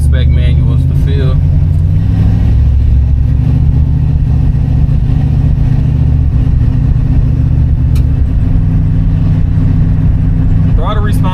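A 1967 Ford Mustang engine rumbles loudly from inside the cabin, a deep steady drone that builds and shifts in pitch as the car accelerates through a corner.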